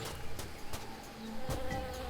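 A steady bee buzz in Tales of Monkey Island drones continuously, with faint clicks and other ambient game sounds beneath it.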